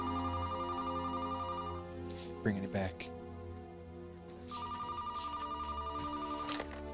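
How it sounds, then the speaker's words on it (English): An electronic telephone ringer trills in two bursts from a TV drama, a steady warbling ring heard under a reacting viewer's talk and brief voices in between. "Phone's ringing."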